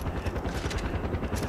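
A helicopter in the video game Far Cry 4 during an airport mission, its rotor thumping in a fast, loud, steady pulse mixed with bursts of game noise.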